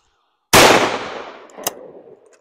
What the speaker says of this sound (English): We're actually pretty good at shooting clays.